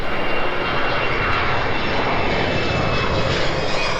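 An airliner takes off at Warsaw's Chopin Airport, heard from a viewing spot near a hill. Its engines give a loud, continuous roaring rush that holds steady throughout, with no talking.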